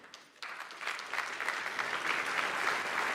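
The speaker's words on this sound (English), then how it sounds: "Big round of applause, please." Audience applause at a European defence conference panel introduction starts abruptly after a brief quiet moment and builds into a steady, moderately distant wash of many hands clapping.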